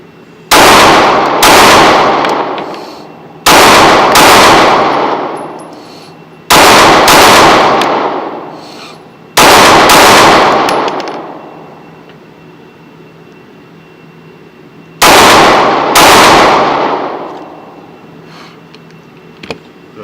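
Shots ring out against steel targets at a shooting range: five sharp, loud bursts, each a quick double crack with a metallic ring that fades, spaced irregularly with quiet gaps between, and no speech.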